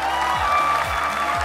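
A talent show audience applauds the four judges at the Indonesia's Got Talent grand final, producing a short burst of steady crowd clapping with a few faint cheers over the loud stage music and sound system.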